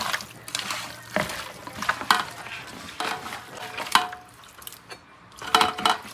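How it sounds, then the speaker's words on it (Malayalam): Water poured into a pan of beef curry to make gravy after the meat was mixed by hand: soft trickling and splashing with scattered utensil clinks and stirring knocks, fairly close and moderate in level. "ഈ വെള്ളം ഒഴിച്ചു കൊടുക്കുന്ന ചാറിന് വേണ്ടിയല്ലേ?"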